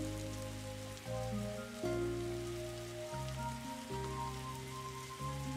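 Steady video-game rain patters continuously, with a layered tonal music bed shifting chords underneath, no voices.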